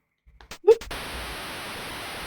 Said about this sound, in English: That's the sound of the crowd.